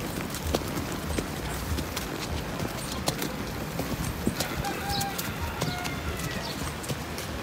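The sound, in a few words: horse hooves clip-clopping during horseback ride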